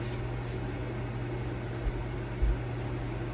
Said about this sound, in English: microwave in a microwave safe bowl for a total of 90 seconds, 30-second increments